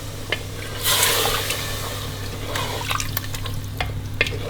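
About 500 ml of water is poured into a pot of meat, a short splashing gush that quickly fades into a soft sizzle and light stirring clinks, with no talking.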